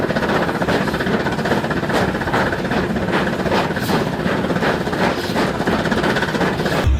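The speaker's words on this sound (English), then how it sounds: "a 1913 steam snowplow in Switzerland finally moved under its own power again, climbing steep grades with the help of a century-old locomotive pushing behind it" A 1913 steam snowplow in Switzerland, pushed up steep grades by a century-old locomotive, gives a loud continuous mechanical roar with a steady rhythmic chuffing pulse.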